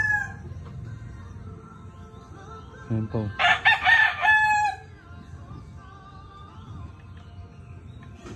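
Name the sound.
roosters crowing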